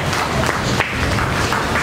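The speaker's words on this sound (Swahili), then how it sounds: "Hebu mpe Yesu makofi." A church congregation claps its hands in a brief burst of dense applause, steady and fairly loud throughout, with no clear voices above it.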